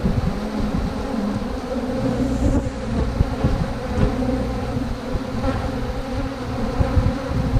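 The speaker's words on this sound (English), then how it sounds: "There's lots and lots of bees right there." A dense, continuous buzz of many honey bees hums up close during cleanup after honey extraction, steady and low-pitched with slight swells in loudness.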